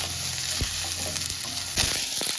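Onions fry in a steel pan with a close, steady sizzle and a few knocks and scrapes of stirring, no voices.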